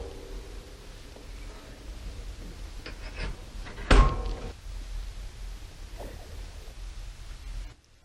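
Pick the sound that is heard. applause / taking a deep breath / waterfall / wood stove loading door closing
wood stove loading door closing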